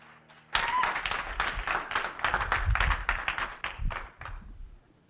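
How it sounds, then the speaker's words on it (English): An audience applauds performer Donnie Lee at an in-person holiday gathering, a sudden burst of full, sustained clapping that swells, then thins out and fades into scattered claps near the end. "Let us give Donnie Lee another round of applause"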